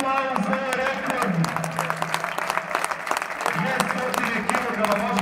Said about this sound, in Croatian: Ajmo još jedan veliki aplauz za ovaj rekord.